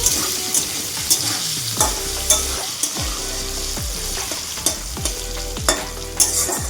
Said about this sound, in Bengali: এবার আলুগুলি লাল লাল করে ভাজবো।